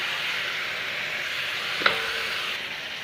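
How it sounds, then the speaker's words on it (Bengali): Bottle gourd pieces stirred with fried spices in a pan give a low, steady sizzle with one brief sharp clink of the spoon partway through, close and quiet, with no voices. "লাউগুলি দিয়ে নাড়াচাড়া করে নিচ্ছি"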